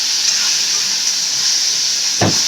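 Ground masala paste sautéing in a pan for a fish, mutton and crab gravy, giving a steady loud sizzle and hiss with a brief stirring scrape near the end.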